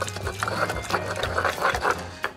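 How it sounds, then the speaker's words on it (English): Anchovies, capers and mustard being ground into a paste with a pestle in a mortar, a close series of rhythmic scraping and knocking strokes, fairly loud with a low hum beneath. "We're going to grind that into a paste."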